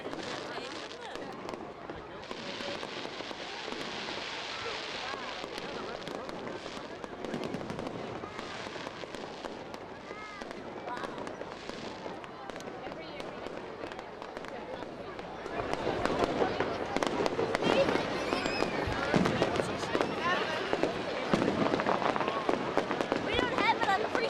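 Fireworks crack and pop in a park in Ireland after a parade. Bursts rattle continuously, growing louder and denser in the second half, under steady crowd chatter and voices.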